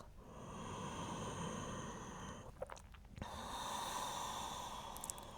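Slow, steady breathing in a calm yoga pose, long soft inhales and exhales heard close and quiet, a brief audible catch in the middle, no speech.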